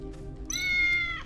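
A biocat in the video game Tales of the Neon Sea gives a single short, bright meow, clear and close over a low steady hum of game ambience.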